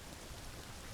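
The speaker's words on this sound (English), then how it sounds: "we got the raining part happening, and the lightning and thunder." Rain falling in the video game Zelda: Ocarina of Time, a dense, steady hiss of downpour that fills a brief moment with no talking.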